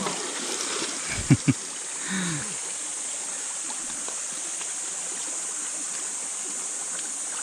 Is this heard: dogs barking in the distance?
no